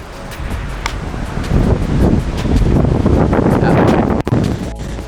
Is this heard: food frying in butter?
no